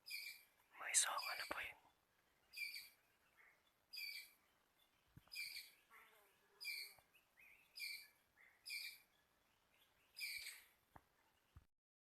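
Birds call outdoors, a high chirping phrase repeating at a steady interval of about a second, fairly faint against a quiet background, with a brief louder rustle near the start.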